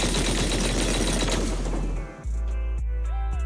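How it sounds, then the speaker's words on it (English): Heavy cannon fire in the video game Zenless Zone Zero: a dense, loud barrage of booming blasts and rattling gunfire that roars for about two seconds, then cuts off abruptly, leaving a few sharp mechanical clanks and an electronic tone. "That was the sound of... a heavy cannon?"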